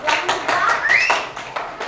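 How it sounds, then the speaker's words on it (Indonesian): Fourth-grade schoolchildren clap together in a classroom for a classmate, a short burst of rhythmic, fairly close clapping with children's voices rising over it. "Tepuk tangan untuk Papua."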